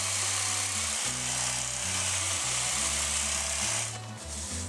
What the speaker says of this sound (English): Plug the hedge trimmer into a socket fitted with a circuit breaker